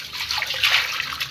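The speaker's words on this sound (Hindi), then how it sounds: "बिल्कुल हल्का हल्का पानी मार रहे हैं, बिल्कुल साफ़ हो गया" Water is lightly sprinkled onto a table fan during cleaning, giving a close, soft hissing splash that lasts barely a second and a half, with no talking.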